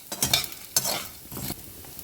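Sago pearls roasting in a hot pan, with a few scattered crackles and light pops over soft stirring and scraping, close and moderately loud, with no voices.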